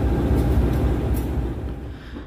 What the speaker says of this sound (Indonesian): Kereta api lokal Garut berangkat stasiun Cibatu.